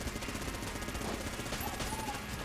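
A Vulcan cannon fires in Enter the Gungeon, a dense, continuous rattle of rapid shots with steady loudness throughout, with faint game tones over it.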